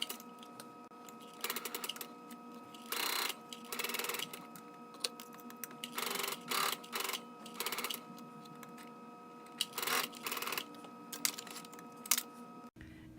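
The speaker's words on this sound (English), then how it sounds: "I'm going to stitch along, again following the whole time, watching this 5/8 line along the side" A sewing machine stitches a 5/8 inch shoulder seam on a Relaxed Raglan top, running in repeated short bursts of a second or so with pauses between, steady and moderately close, with no talking.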